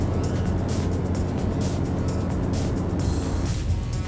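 Diesel car converted to run on plant oil, its engine running steadily and loudly from inside the vehicle, a continuous rumble with no talk.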